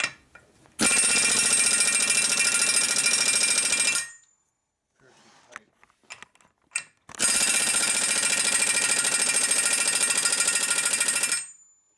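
Air impact wrench tightening on a Harley shovelhead motor during a rebuild: two loud sustained hammering bursts of about three and four seconds close up, separated by a pause of faint clicks and handling noises.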